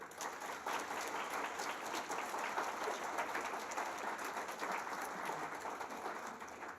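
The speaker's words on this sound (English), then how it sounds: "I'm joining you in the applause" A crowd applauds at an annual general meeting after a foundation board fundraising report, with many hands clapping in a thick, even wash that starts just after a brief quiet moment and holds steady, fading slightly at the end.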